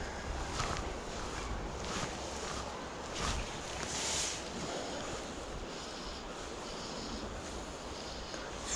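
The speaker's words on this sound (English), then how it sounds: "The wind's just making things really difficult to do." Steady wind gusting across a river, buffeting the microphone with broadband rushing noise that swells in a few stronger gusts, with no voices.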